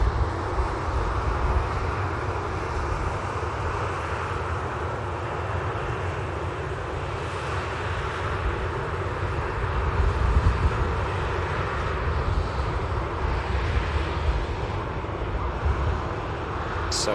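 A 26-year-old Atlas Air Boeing 747 landing at Manchester Airport, its engines a broad, steady roar that holds loud throughout.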